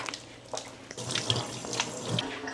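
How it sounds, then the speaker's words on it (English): Hands are washed with soap under a running tap at a sink, water streaming and splashing steadily nearby with soft rubbing sounds throughout. "First step is to wash my hands, of course. I have soap and water in my hands and I am lathering up."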